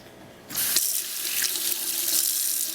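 Tap water runs into a sink while a Lamy fountain pen is cleaned: a quiet start, then a sudden hiss of flowing water that stays loud and steady to the end, with no talk.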